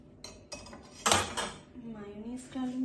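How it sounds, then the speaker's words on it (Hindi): A spoon clinks and scrapes against a bowl while Russian salad is mixed with mayonnaise, giving a few sharp knocks and rattles close up, with a voice speaking briefly underneath. "अब मिक्स करते हैं"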